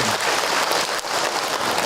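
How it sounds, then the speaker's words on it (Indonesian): Women in the audience at an Indonesian Islamic religious talk applaud in a dense, loud burst of clapping that runs without a break and sounds close to rain. "Tepuk tangan buat ibu-ibu"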